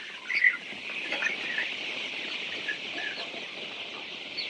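Chicks about three weeks old cheep and cluck in a crowded poultry shed, a dense, steady chorus of many birds at moderate loudness with no talk.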